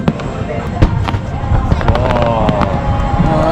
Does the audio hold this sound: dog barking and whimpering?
no